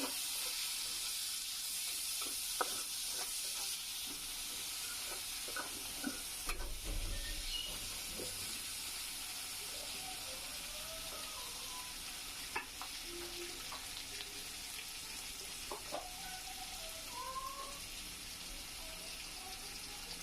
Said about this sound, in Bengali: একটু পেস্ট একটু ভাজা ভাজা করে নিলাম ছোট মাছের গুলা দিয়ে দিলাম